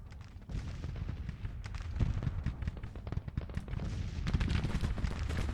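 A Civil War game battle set in Tennessee in 1863 gives a dense, steady rumble of massed musket and artillery fire, heavy and low, rolling without pause at a middle distance.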